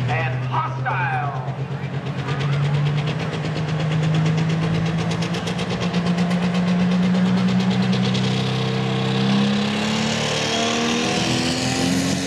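A 4000 hp pulling truck engine, just restarted, idling loud and close with a deep rumbling drone and steady low pulsing throughout.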